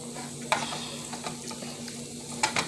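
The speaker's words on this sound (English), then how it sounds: "And then you let that cook and saute." Green peppers, red peppers and onions sauté in a pan under a steady sizzle, with a few sharp spatula scrapes and clacks near the start and end.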